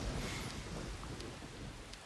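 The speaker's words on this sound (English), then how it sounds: "Coming out in the rain." Rain and thunder in the video game Deadly Premonition form a low, steady rumble with a hissing wash of rainfall, fairly faint and continuous, with no speech over it.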